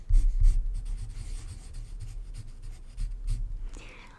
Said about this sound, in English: I'm just going to write down that material number.